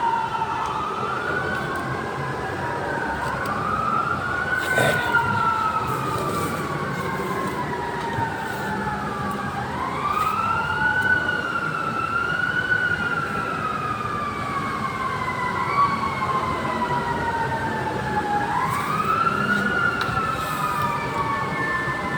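Fire truck sirens wail on a narrow street in Barangay Tatalon, several rising and falling tones overlapping and repeating in long sweeps, moderately loud and steady against a background hum of traffic, with no one talking.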